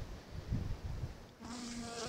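Honey bees from a swarm being hived, with a steady insect buzz; a low, uneven hum near the hive becomes a louder, sustained, higher droning buzz partway through.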